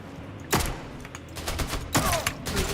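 SMG gunfire in the video game Atomfall, two sharp bursts of rapid shots with dense crackling between them, loud and close, no voices.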